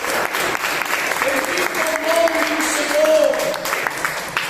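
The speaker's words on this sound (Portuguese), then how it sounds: "dá uma salva de palmas bem alegre para Jesus" A church congregation at a Sunday service claps joyfully together, sustained dense applause filling the room while a voice talks over it.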